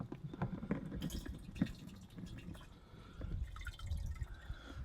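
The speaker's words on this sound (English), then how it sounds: "And then we're just going to fill it up with clean, fresh water." Fresh water trickling and dripping as a caravan toilet flush tank is filled, a faint, uneven splashing close by with no talk.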